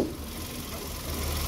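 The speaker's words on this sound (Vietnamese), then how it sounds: "Máy nổ khá là êm nhé." A Hyundai i10 from 2015 or 2016 with a 1.0 engine idles steadily, a low, even rumble with a faint hum, close and alone.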